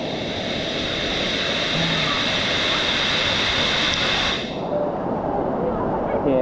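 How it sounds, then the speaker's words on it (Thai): A waterfall on a forest hike roars as steady, dense broadband rushing water close by, continuous for several seconds without voices. "ดูน้ำตกครับ"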